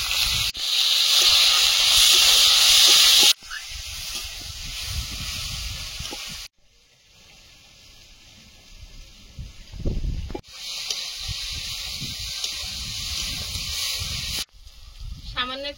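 Cumin paste and spices frying in hot oil, a loud steady hiss that comes and goes in several bursts, with clattering and stirring noises between them.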